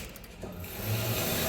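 Socket ratchet working a Loctite-coated bolt back and forth on a 2015 Chevy Equinox during a wheel bearing job, a short close, moderately loud run of grinding clicks and strain that thickens in the second half.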